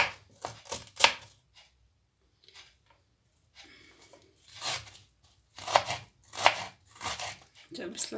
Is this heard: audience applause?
no